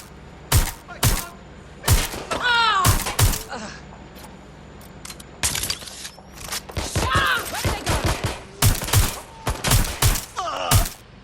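Gunfire in the game Watch Dogs Legion, a dense fusillade of sharp, loud close shots in rapid bursts and single cracks, with strained voices shouting between the volleys.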